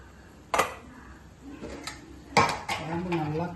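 Crab pieces go into a simmering Tamil-style crab curry, landing in a metal pot with loud clanks and scrapes of a spoon against the vessel, followed by a softer bubbling and stirring.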